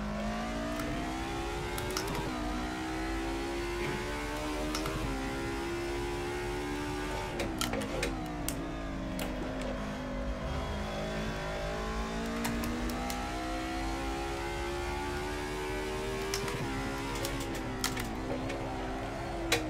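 A 1990s DTM Mercedes 190 race car engine in a sim racing game at Barcelona, revving and dropping through a downshift, with steady loud engine drone and pitch swoops throughout, no talk.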